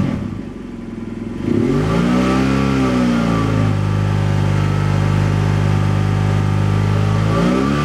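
An engine fitted with a Dynojet PC-5 and Autotune module is revved: a low idle climbs sharply into a loud, sustained high-rpm drone that holds steady, close to the listener, with no talking.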